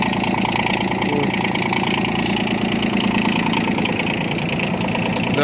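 A Yanmar Ke-1D Japanese mini tractor engine idles up close, a loud, steady diesel chug with an even rhythmic knock that holds unchanged throughout.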